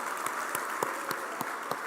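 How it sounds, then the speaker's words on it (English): Audience applause at a panel event on obesity, a continuous moderate wash of many people clapping with a few distinct sharper claps, steady and without talk over it. "Please give another round of applause with some energy."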